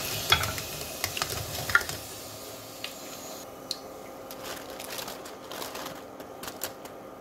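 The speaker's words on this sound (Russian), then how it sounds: "и жарим, периодически помешивая, до золотистой корочки" Pieces of eggplant deep-frying in oil, stirred now and then until golden: a steady close crackling sizzle with sharp clicks and scraping taps from stirring, quieter in the second half.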